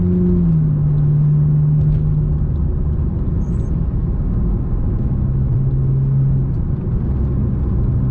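Ferrari 458 Italia on a race track at Kakucs, its engine droning loudly and steadily from inside the car, the pitch easing then climbing again under constant throttle with road rumble beneath.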